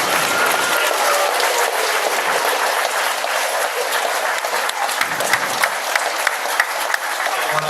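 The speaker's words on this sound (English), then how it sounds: "Can we give them another round of applause?" Students at a school Veterans Day assembly applauding, a steady wash of many hands clapping in a large room, continuous and fairly even throughout with a few sharper claps standing out.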